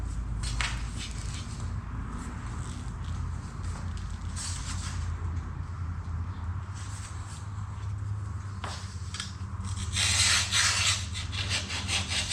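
Laminate countertop sheet being sawn, slightly oversize, for a 2002 MCI bus conversion: a continuous close rasping cut with a few sharper scrapes and a louder burst near the end, no voices.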